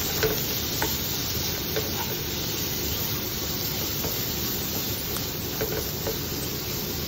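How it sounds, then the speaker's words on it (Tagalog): Carrots sizzle and hiss steadily in a hot pan while being stirred and sautéed, with occasional light scraping taps, close and continuous with no talking. "Pag naigisa naman na natin yung carrots"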